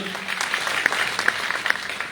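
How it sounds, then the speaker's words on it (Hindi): Loud audience applause fills a hall at a spiritual or organisational gathering, a dense burst of many hands clapping with a few sharper claps standing out. "एक बार गुरुदेव के लिए जोरदार तालियां।"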